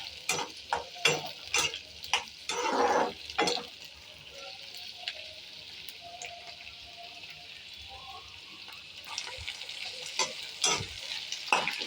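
Idli pieces frying and sizzling in a pan while being stirred, with bursts of scraping and clattering from the stirring at the start and end and a steady crackle between them.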